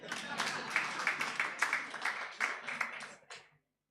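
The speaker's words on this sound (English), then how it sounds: "clap for yourselves" Audience members at a Uganda-Kenya coast tourism conference clap in a short, quiet round of spaced, fairly regular claps lasting a few seconds before stopping abruptly.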